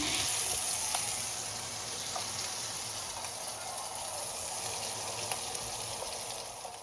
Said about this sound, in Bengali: তো ভালোভাবে লাল লাল করে ভাজা হয়ে গেছে, এবারে আমি মাছগুলো তুলে নিচ্ছি